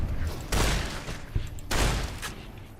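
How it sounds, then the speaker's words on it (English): Caravan shotgun firing in Fallout: New Vegas, two loud, close blasts about a second apart, each a broad burst that fades quickly, with a small thump between them. "Caravan shotgun."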